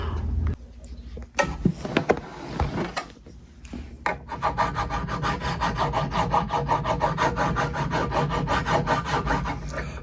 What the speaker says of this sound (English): Using my fingernail file, diamond cut, just sanding those bumps down